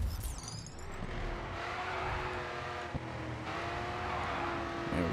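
Racing car engines in GRID 2 drone steadily throughout, a sustained mid-race roar with a brief tire squeal near the start, a short thump near the three-second mark and no talking.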